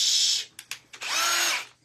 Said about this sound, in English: Ooh, we got the drill out.